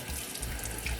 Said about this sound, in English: But first I'm going to wash my hands first.